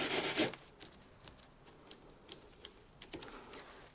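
Quick wood epoxy putty kneaded by hand during repairs to a 1920s roll top desk: a faint close rubbing and squishing with small soft clicks, quiet and intermittent, no talk.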